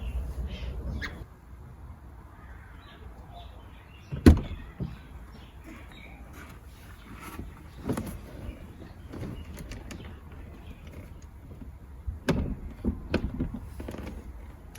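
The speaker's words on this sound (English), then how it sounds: "as you heard, this car has soft closing doors" Several soft-close doors on a BMW 740i M-Sport F01 pull shut softly, each ending in a quiet mechanical thunk and whir, spaced apart with low background rumble between.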